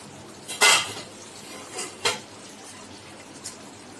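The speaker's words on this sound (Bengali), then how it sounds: "ঢাকনাটা সরিয়ে দিলাম" A pot lid lifted off a cooking pot of Bengali chicken curry with potatoes, giving a sharp metallic clink and scrape near the start, a second fainter clank a moment later, and a light tap near the end against a quiet kitchen background.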